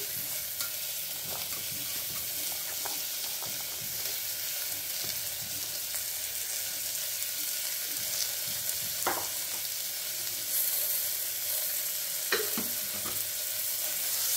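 Tomato sautéing in a pan for veg kurma, a soft, steady sizzle under light scraping and occasional stirring clicks, close and fairly quiet with no voices.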